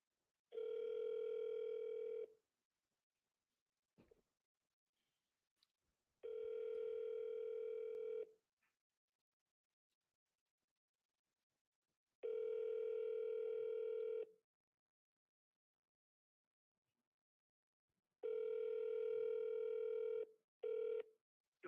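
Outgoing phone call to a sales lead, a few short dialing beeps followed by a steady electronic ringback tone repeating in long bursts separated by silent gaps, clear and alone without talk.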